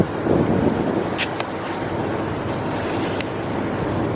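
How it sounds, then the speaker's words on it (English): Water rushing into a canal lock chamber as a boat waits inside, a steady churning wash close by with wind buffeting the microphone. "Look at that. And the water's coming in."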